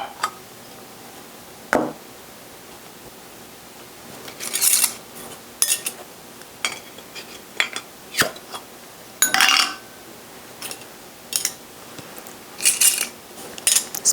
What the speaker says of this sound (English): So let's get these rings and lids off here.